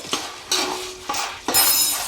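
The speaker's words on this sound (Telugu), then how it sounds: "ఇప్పుడు మనము అటుకులు వేయించుదాం" Flattened rice frying in a pan with tempering is stirred in four distinct scraping strokes about half a second apart, close and fairly loud, with a light sizzle between them and no talk.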